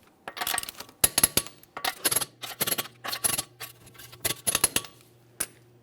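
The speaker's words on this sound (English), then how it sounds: "we're going to be torquing these in a crisscross manner to that 100 foot-pounds" A torque wrench tightens the wheel lug nuts on a 2014-2018 Mazda 3 in a crisscross pattern, giving repeated bursts of sharp metallic clicking and ratcheting with short pauses between nuts, close and clear without any voices.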